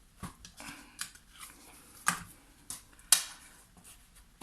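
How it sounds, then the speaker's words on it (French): A bone folder rubs along the glued paper edge of a handmade winter-themed scrapbook album, making several short, close scraping strokes with a few sharper scuffs and no talking. "Là, je passe le plioir"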